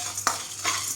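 A spoon stirs chana dal as it dry-roasts in a pan for idli milagai podi, giving one sharp scrape followed by a soft rustling, gritty shuffle of lentils against the metal.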